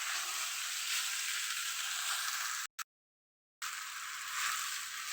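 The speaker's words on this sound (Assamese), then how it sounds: "আলু বিলাহী এইটো লাৰি আছোঁ" Potatoes and tomatoes stirred in a frying pan give a steady, close sizzle that runs throughout, broken once by a short stretch of near silence before the frying resumes.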